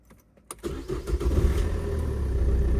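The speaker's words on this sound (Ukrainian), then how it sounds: "Машинка завелася" An Opel Combo C engine cranks briefly, catches, and settles into a steady close idle rumble.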